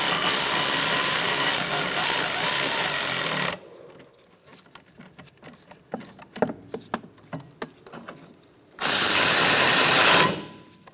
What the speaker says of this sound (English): we're going to snug up these bolts for the bracket and torque them to 50 foot-pounds.